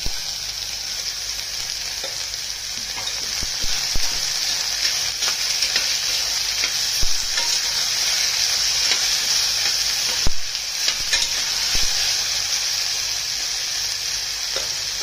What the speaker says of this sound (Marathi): फ्राय करून घ्यायचा तेलामध्ये। टोमॅटो ऍड करते।